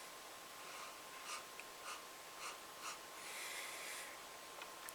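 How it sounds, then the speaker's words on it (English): Someone sniffs repeatedly at a Cluster SMaSH pale ale, about five short soft inhalations at a steady pace, then a longer draw, all faint and close with no speech. "Oh, now going back in for the second sniff there."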